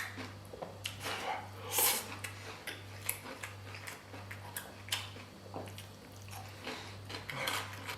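Stir-fried spicy squid being eaten up close: intermittent soft bites and chewy smacks scattered over a steady, pulsing low hum, with no clear speech.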